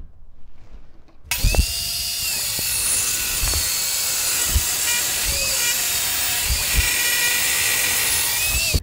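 A table or circular saw rips a 3.5-inch select pine board in half, starting after a brief quiet moment with a loud, sustained whine and cut that runs to the end, with a few knocks along the way.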